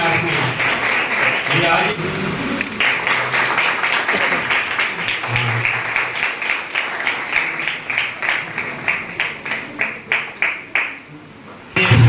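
Children and guests at the opening of a community knowledge centre clap steadily, the applause thinning into separate claps toward the end, with a voice speaking over it.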